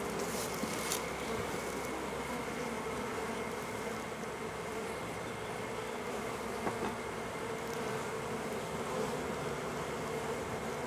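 Honeybees swarm around an open eight-frame deep hive, filling the air with a dense, continuous buzzing drone that holds steady and close throughout, without speech.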